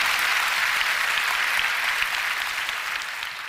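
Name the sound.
applause at prayer meeting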